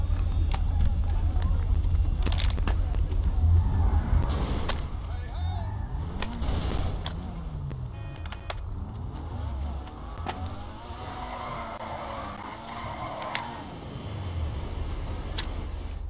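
A modded flying car in GTA 5 gives a steady low engine drone with rumbling and whooshing shifts. A voice talks over it for most of the time.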